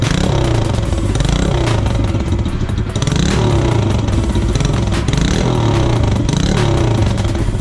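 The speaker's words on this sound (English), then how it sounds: "here's the sound of the stock exhaust system with my makeshift baffle" A Yamaha TTR 110 pit bike running its stock exhaust fitted with a makeshift baffle idles and revs close up, the loud single-cylinder note rising and falling in repeated throttle blips with mechanical clatter.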